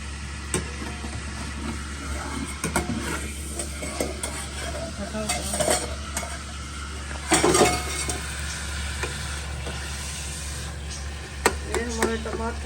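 Chopped tomatoes with salt and chili sizzle and get stirred in a pan for a three-egg tomato omelette, a steady low fry with scraping utensil strokes and a few louder clinks, under talk.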